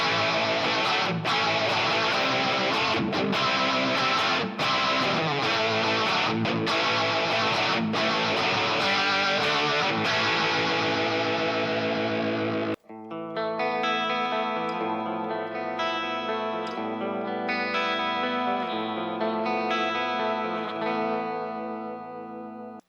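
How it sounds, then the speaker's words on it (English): An electric guitar runs through the rotary Leslie-style effect of a MOOER Mod Factory MKii pedal, with dense swirling distorted chords that give way to a cleaner, warbling passage, loud and close, with no talk. "here's the rotary effect for this pedal. This is kind of like a really cool classic 70s sort of Leslie sort of sound."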